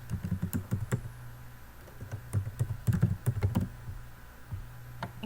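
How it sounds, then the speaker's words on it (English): Keys clatter in quick, uneven bursts of typing on a computer keyboard, close and clear with brief pauses between runs, as a name is entered into a Google Drawings document. "and type in the name."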